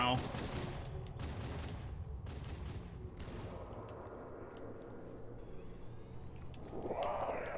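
Enemy gunfire in Halo 2, rapid bursts of shots over a dense background of game noise, fairly loud, with a brief gap before more firing near the end.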